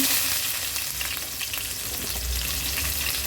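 Four small finely chopped onions hit hot oil in a pan set up for a potato and fish roe fry, giving a loud, steady, close sizzle that hisses on without a break and without talk.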